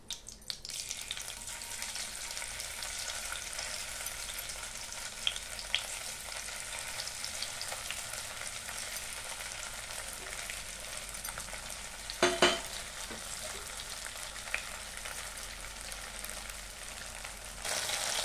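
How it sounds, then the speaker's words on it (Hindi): Paneer fries in a pan for restaurant-style chili paneer, a steady, close hiss of sizzling oil running throughout with a few brief clinks of stirring, and no voices. "बचा हुआ पनीर को भी अच्छे से फ्राई कर लेते हैं"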